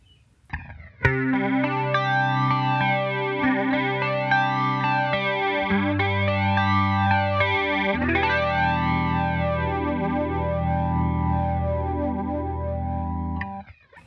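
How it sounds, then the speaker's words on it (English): Electric guitar notes and chords through a Line 6 POD HD500x with a lush, sweeping 80s-style chorus effect, swirling steadily as the chords change, then stopping. "by changing this depth effect, we could probably get a lot more sweeping sound, as well as increasing the feedback"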